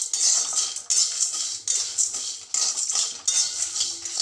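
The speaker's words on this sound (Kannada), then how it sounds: "ಈಗ ಡ್ರೈ ರೋಸ್ಟ್ ಮಾಡೋಣ." Asafoetida, three Byadgi chillies, one Guntur chilli and lentils are dry roasted in a pan over a low flame, with a spatula scraping and stirring in rhythmic, close, bright strokes.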